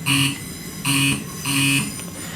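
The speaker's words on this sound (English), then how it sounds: "I wonder why they did a guard's buzzer" Guard's buzzer in a Lumo Class 803 train in Train Simulator 2022 sounds three times, loud steady electronic buzzes, each under half a second, spaced evenly apart.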